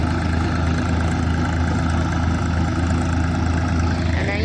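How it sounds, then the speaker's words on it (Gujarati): A tractor engine idles on a farm during the cumin harvest, giving a steady, low, even rumble with no change in pace and only faint voices. "અહીંયા આપણું ટ્રેક્ટર પડ્યું હે."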